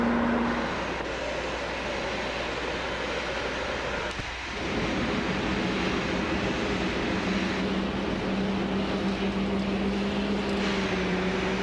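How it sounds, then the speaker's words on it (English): Airliner engine in Flight Simulator X spooling up, a steady loud jet roar with a rising whine that holds throughout, dipping briefly near the middle before continuing. "And that engine's gonna spool up pretty soon."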